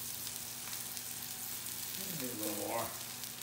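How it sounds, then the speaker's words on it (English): Spinach sizzles steadily in a hot frying pan while brunch is cooked, a continuous close hiss throughout with a brief stirring scrape near the end, and a voice speaks briefly over it. "Hear the sizzle there."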